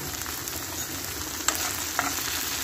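Spaghetti sauce with freshly added tomato paste being stirred in a pan, a soft steady sizzle under light scraping of the spoon, with a couple of sharper clicks against the pan.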